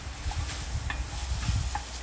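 Food sizzles steadily in a pan as potatoes and other ingredients for venison stew sauté down, a close, continuous crackle with faint stirring clicks and no talk.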